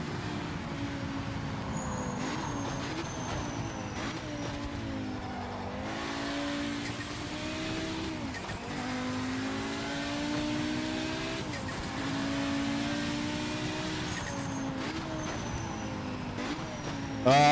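Race car engines in the Project Motor Racing sim at Bathurst, a steady loud engine drone with rising and falling pitch through gear changes and corners, running continuously throughout.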